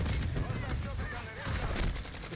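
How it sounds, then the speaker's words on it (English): Mortar strike in a video game: dense rumbling explosive bursts and rapid gunfire-like crackle, loud and continuous throughout. "Look at him fucking in there with his mortar strike, eh?"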